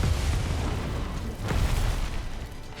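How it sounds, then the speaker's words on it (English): Rumbling explosions in the video game Monster Hunter World Iceborne, a dense, continuous roar of overlapping booms and bursts that stays loud throughout with a swell near the middle. "All the explosions."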